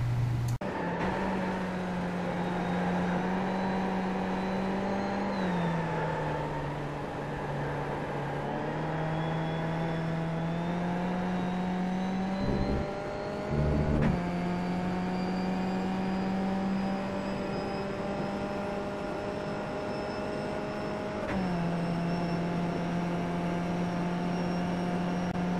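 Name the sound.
Skip Barber race car engine at Suzuka, iRacing video game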